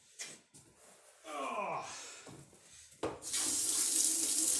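A tap gushes into a sink while a paddlefish is cleaned, a brief trickle and bursts of splashing then a loud steady rush of running water near the end.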